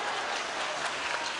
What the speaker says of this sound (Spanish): Un aplauso para los huevones.